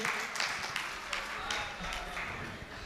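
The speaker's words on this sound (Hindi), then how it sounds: "एक बार जोरदार तालियां बजाइए। तालियां बजाइए भाई साहब बच्चों के लिए।" Audience at a Hindi kavi sammelan applauds a child poet performing comic verse, a steady wash of clapping filling the hall throughout without a break.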